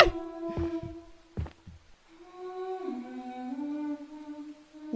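A heartbeat effect from the Roblox horror game The Mimic thumps a few times up front, followed by a sustained droning, wavering tone that carries quietly to the end.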